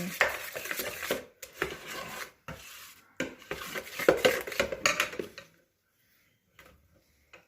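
Utensil scraping and clinking against a bowl while flour and water batter is stirred for homemade pizza dough, in uneven bursts of close, moderately loud stirring that stop and leave near silence at the end.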